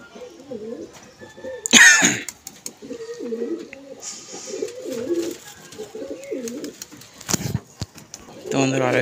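A male jiriya pigeon kept at home coos repeatedly in close, rhythmic rolling phrases, interrupted by a couple of sharp coughs and throat-clearing sounds nearby.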